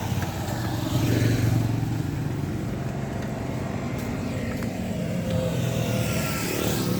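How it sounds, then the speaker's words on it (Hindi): A KTM Duke 390 motorcycle engine runs loud and close at a hilltop biker spot, a steady throbbing drone with road and wind noise and no pause over seven seconds. "this is a KTM Duke 390"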